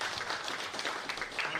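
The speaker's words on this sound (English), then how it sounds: "Okay, let's clap for Prof." Audience applause for a professor at a clean energy research conference, a steady wash of many hands clapping at moderate level, fairly distant, with no clear talk over it.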